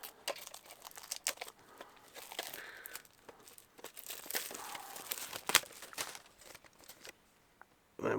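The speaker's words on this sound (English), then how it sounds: "So let's get the cellophane off." Cellophane wrapping is torn and crinkled off a double cassette box, close up, as a run of sharp crackling rustles and tearing bursts with short pauses between them.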